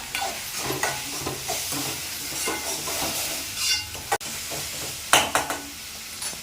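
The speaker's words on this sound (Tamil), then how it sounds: "தக்காளி கொஞ்சம் நல்லா வதங்கணும்" Tomatoes sauté in a frying pan with a soft, steady sizzle, broken by scraping stirs of a spoon and occasional sharp clinks against the pan, fairly quiet and close.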